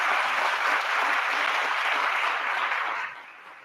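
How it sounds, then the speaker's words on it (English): Audience at an NAACP New Jersey gubernatorial candidate forum at Princeton gives a steady round of dense clapping, fairly loud and even, then tapering off sharply near the end. "Let's give them a round of applause for putting on this tonight."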